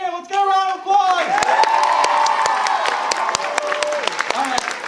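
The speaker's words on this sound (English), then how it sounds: "let's get a round of applause!" Audience applause at a school Friendship Game show, dense steady clapping with some cheers, following a host's voice at the start and continuing loud and sustained.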